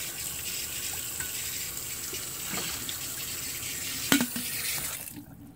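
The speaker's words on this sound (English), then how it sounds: "What I'm going to do is rinse this out." Tap water runs steadily from a faucet to rinse out a coffee pot, a continuous hissing flow with a brief splash near the end before it cuts off.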